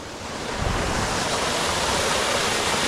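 A jungle waterfall pours into a deep green pool, making a dense, loud, continuous rushing hiss that swells slightly at the start and then holds steady, with no voices.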